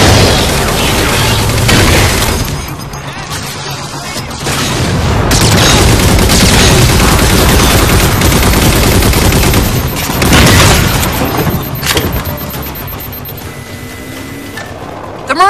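Sustained heavy gunfire from a turret in Halo 4, loud and dense with booming bursts over a continuous game soundtrack, with brief dips around the middle before firing resumes.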